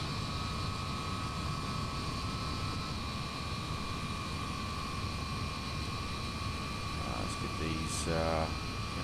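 Steady jet engine whine and rumbling drone from a De Havilland Comet 4C airliner taxiing in Flight Simulator X, constant throughout with a few faint higher chirps near the end.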